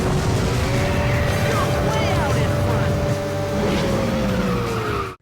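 Toy cars racing in the video game Hot Wheels Stunt Track Challenge, with loud, steady engine whine and tire skids filling the scene while a narrator talks over the top.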